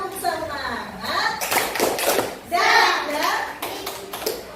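A class of children claps in a rhythmic spirit-clap pattern, bursts of hand claps mixed with chanting voices.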